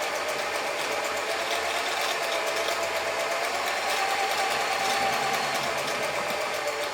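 A German-made Singer 720 sewing machine stitching bar tacks, giving a steady, fast mechanical whirring and rapid rattle that holds at a constant pace throughout, close up and with no voices.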